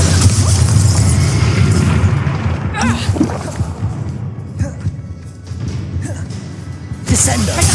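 A Bombarda spell explosion in Hogwarts Legacy, heavy booming blasts with thuds and crashes amid combat noise, the loudest burst near the end, while a voice speaks over it.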